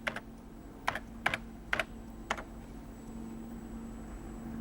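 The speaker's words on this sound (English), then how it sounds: "Why do we have to input everything through the keyboard?" Several short clusters of keystrokes on a computer keyboard, crisp and close, fall in quick bursts over a quiet room with a steady electrical hum, then stop.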